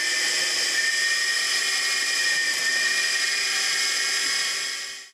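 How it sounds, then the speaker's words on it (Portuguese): A homemade farm-workshop drill press built with car shock absorbers and a car steering box runs alone. It gives a steady, loud, high-pitched whine for about five seconds before winding down. "E a furadeira que tem amortecedores e caixa de direção de carro."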